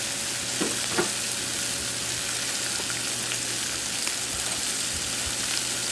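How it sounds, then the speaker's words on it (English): Butter sizzles with sausage on a Blackstone griddle in a dense, constant frying hiss, loud and close, with a couple of faint scrapes early on. "So I'm gonna add a little bit of butter."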